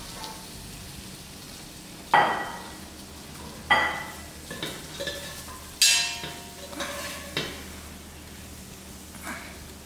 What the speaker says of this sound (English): Now that my masala is cooked out, I add in my potatoes.